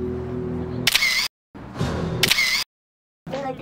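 A camera clicks in a busy, lit-up nighttime scenic spot in Chaoyang, Beijing, giving two or three sharp shutter bursts close by over a background of music and crowd noise.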